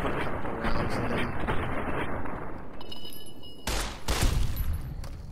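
Gunfire at radscorpions in Fallout: New Vegas, a dense run of loud in-game shots with bursts and blasts over a roaring background, including a sharp heavy report near the end.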